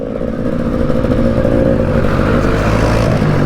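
A 300cc two-stroke enduro bike, ridden at a trail scramble event, runs with a loud, close, continuous engine drone and rough rattle, with no pauses.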